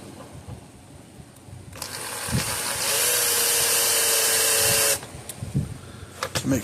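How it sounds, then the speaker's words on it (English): A drill bit bores into the case of a PEL 100 electric fencer, a steady high whine rising for about two seconds and then cutting off sharply, with scattered knocks and handling clatter before and after. "Okay, so we're gonna take this drill bit. I'm gonna go about dead center roughly."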